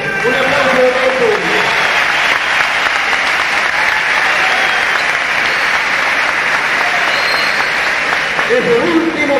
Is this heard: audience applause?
yes